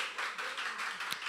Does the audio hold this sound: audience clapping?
yes